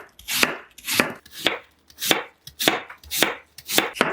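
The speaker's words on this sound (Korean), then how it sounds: "사과는 반으로 자르고 반개는 먼저 반달 썰기 해줄게요." A knife cuts an apple into half-moon slices, giving seven crisp, evenly spaced chops on a board, close and loud with brief silences between them and no voices.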